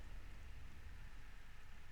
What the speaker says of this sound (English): See, this is the thing with the rain.